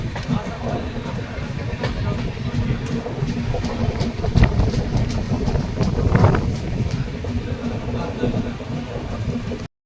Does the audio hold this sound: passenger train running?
yes